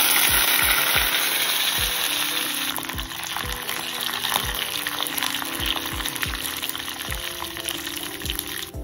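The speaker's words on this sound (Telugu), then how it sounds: "కడాయిలో కొద్దిగా ఆయిల్ పెట్టుకుని పోపు గింజలు," Mustard-type tempering seeds, split lentils and curry leaves frying in a little oil in a kadai, a dense close sizzle with regular low thuds and faint crackles running on steadily.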